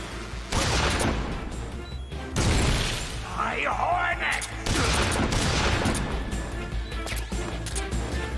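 A Tommy gun fires in sustained bursts in Metal Gear Solid 3 Subsistence on PS2, loud and continuous, with crashes and explosion debris mixed in and a voice talking over the gunfire.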